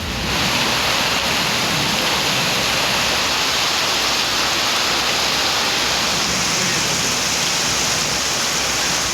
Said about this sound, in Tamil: அரை மணி நேரம் இடி மின்னலுடன் கனமழை பெய்தது